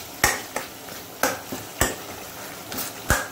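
Ginger and asafoetida tempering in hot oil for a Rajasthani dal tadka, with a faint continuous sizzle broken by several sharp stirring and utensil clacks against the pan, close and with no talking.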